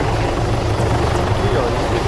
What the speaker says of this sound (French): Ils ont eu le temps de faire venir un hélicoptère.